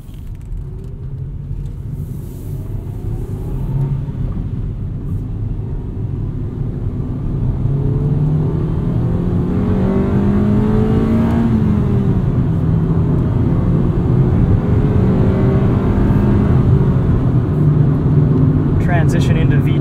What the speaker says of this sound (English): the engine just revs so high